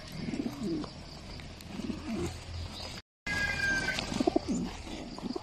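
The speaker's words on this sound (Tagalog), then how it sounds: "Sige na mga ibon mga kalapatids." Low, soft cooing from pigeons repeats in short bursts over steady early-morning outdoor background noise, with a brief gap of silence midway.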